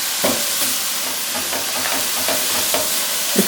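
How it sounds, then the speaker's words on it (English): Garlic, ginger and jalapeno hit a hot frying pan with turmeric, giving a steady loud sizzle with a few stirring scrapes across the moment, no talk over it. "And now the garlic, ginger, and the jalapeno, they go in."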